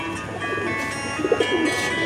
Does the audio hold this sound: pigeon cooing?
yes